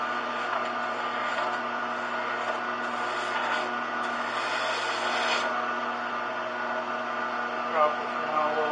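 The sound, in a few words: hole gouge carving wooden vessel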